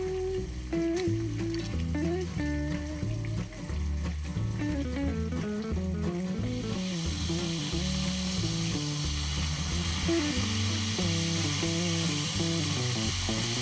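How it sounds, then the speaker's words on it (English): Veal scallopini frying in a pan, a strong continuous sizzle up close with some stirring and faint watery sounds in the background, and no talking. "I'll let the scallopini cook until they're brown on one side."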